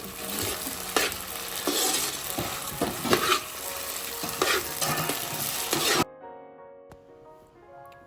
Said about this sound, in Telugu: ఇలా వేసిన పిండిని కలుపుతూ కలుపుతూ ఉంటే అది ఉడికి ఉడికి హల్వా లాగా గట్టిగా అయిపోతుంది